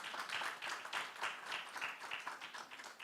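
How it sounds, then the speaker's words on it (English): Audience applause for two panelists after a festival session, a quiet but continuous ripple of many hands clapping, steady and somewhat distant, with no speech over it. "Let's have a huge round of applause for both our panelists."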